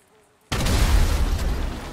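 Sudden loud burst of gunfire and impacts on a Nightshark armored vehicle in GTA 5, erupting abruptly after near silence and continuing as a dense, booming roar.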